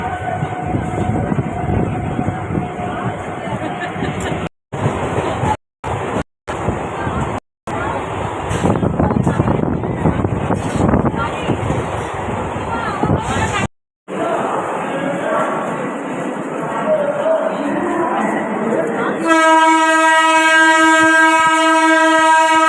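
A crowded commuter train near Bidhannagar station heading into Sealdah rumbles steadily for about twenty seconds, with onboard chatter, brief dropouts, and a loud sustained horn blast near the end.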